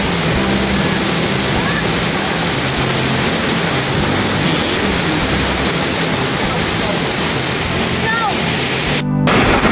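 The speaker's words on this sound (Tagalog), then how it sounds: "Nandito ngayon tayo sa Pulang Bato Falls na matatagpuan. Yan. Matatagpuan dito sa Valencia, Negros Oriental." Pulang Bato Falls in Valencia, Negros Oriental, pours in a steady, loud broadband roar of falling water that fills the whole scene without a break, with a brief disturbance near the end.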